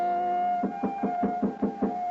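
Seven firm, evenly spaced knocks on a wooden door, close and clear over a steady background hum in an old radio drama scene.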